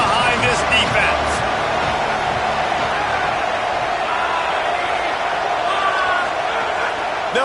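A football stadium crowd roars steadily on a big third down, a dense, loud wash of cheering that holds throughout at close range.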